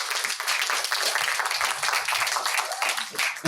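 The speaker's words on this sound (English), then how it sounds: "Big round of applause for the guy here." Applause from a premiere panel audience, a crisp clatter of many hands clapping steadily near and loud, with a few individual claps standing out.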